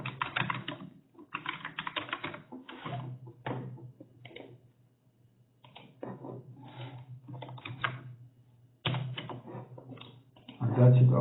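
Computer keyboard typing on accounting software, quick clattering keystrokes in bursts with short pauses, close and clear, mixed with a voice talking over parts of it.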